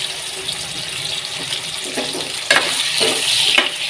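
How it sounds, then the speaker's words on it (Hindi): Potatoes frying in the same oil just used for cauliflower while making aloo gobi, a steady loud sizzle with bursts of crackling as pieces are stirred, no voices. "अब उसी में हम लोग उसी ऑयल में जो है ना आलू फ्राई कर लेंगे"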